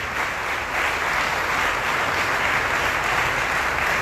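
Applause from a congregation during a Sunday worship service, a steady wash of clapping holding for about four seconds with no voices over it.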